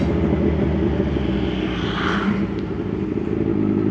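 A Kawasaki Z1000 motorcycle being ridden, a steady loud engine drone with continuous rumble and wind noise, close, without any speech.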